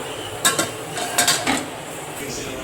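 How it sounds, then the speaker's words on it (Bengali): Kitchen utensils clinking and scraping as tea is strained, a few sharp metallic taps and clatters close by over a low steady background hum. "এবার চাটা ছেঁকে নেব।"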